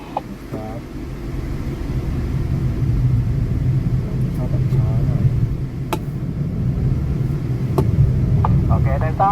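A BYD city car pulls away from a standstill, its steady low drivetrain rumble and road hum rising gently as speed builds, with faint interior clicks.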